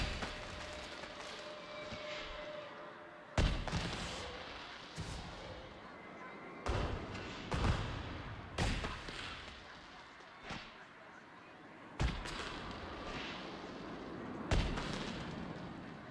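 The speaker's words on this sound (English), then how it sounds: "Yep, so that's a very basic fireworks show." A fireworks show in Planet Coaster 2 sets off sharp booming bursts one after another at irregular intervals, each followed by a crackling decay over a low rumbling background.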